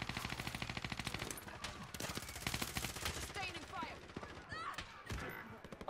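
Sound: gunfire in a video game

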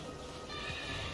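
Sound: horse neighing in video game Elden Ring

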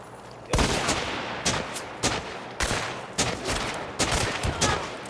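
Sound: gunfire in the video game Hunt: Showdown

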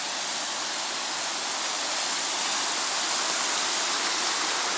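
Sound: river flowing across a mountain track

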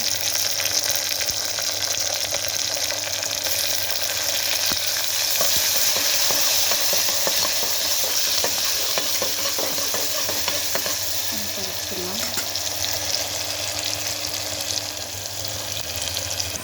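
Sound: onions and tomato frying and being stirred in pan

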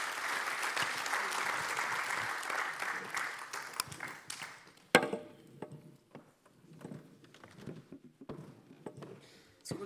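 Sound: audience applause

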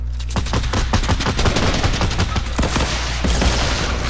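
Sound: rocket launcher fire in a video game

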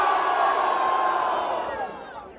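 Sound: rap battle audience cheering for Maria's rhymes

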